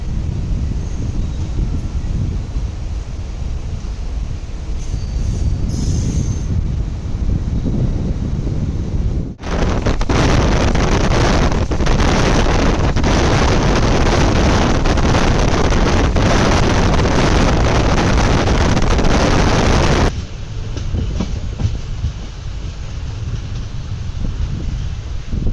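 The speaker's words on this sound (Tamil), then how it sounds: "இப்போ பேரணி ஸ்டேஷன் இந்த ட்ரெயின் நிற்கிது" A Villupuram-Chennai Beach MEMU passenger train runs as a constant loud rumble with wind rush, swelling to a harsher roar for several seconds mid-way before settling back.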